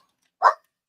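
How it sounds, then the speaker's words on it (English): A single short, sharp dog bark sounds close by indoors, a lone burst that breaks an otherwise silent moment. "I'm sorry about my dog."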